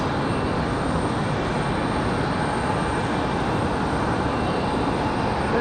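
A jet departing Raleigh-Durham International Airport from runway 23 right, its engine roar a steady, broad rumble at a distance that holds unbroken throughout with no voices.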